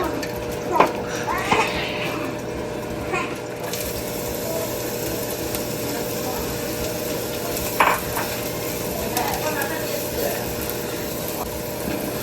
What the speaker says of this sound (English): Add some oil to fry the onion.